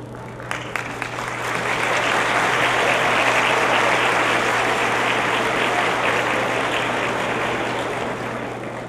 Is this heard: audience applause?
yes